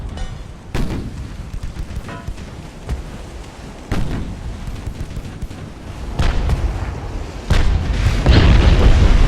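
Naval gunfire from destroyers in the game Ultimate Admiral: Dreadnoughts, a pre-dreadnought British versus German battle: repeated deep booms and blasts with rumbling tails, growing louder and denser toward the end, no talk.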